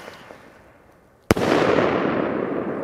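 A single-shot firework mortar shell bursts with one sharp, loud bang after a quiet lead-in, followed by a long crackling, hissing wash of sparks and echo that lingers to the end.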